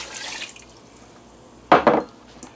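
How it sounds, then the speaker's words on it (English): A short burst of two cups of water splashing into a glass jar, lasting about a quarter second, following near-quiet room tone with faint clinks. "add the 2 cups of water."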